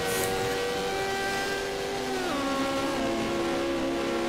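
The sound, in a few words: Porsche race car at a hill climb event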